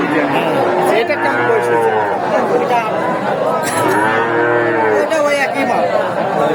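A Holstein heifer moos repeatedly at a busy livestock market, her long calls rising over crowd chatter and nearby talking.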